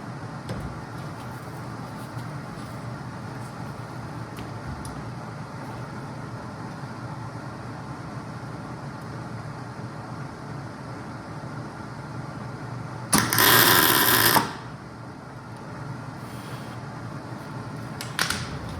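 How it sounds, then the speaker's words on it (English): A single tack weld on a scratch-built hinge for a 1927 Ford tailgate gives a brief, loud, crackling arc buzz of about a second over a quiet workshop hum. "Let's tack weld this on."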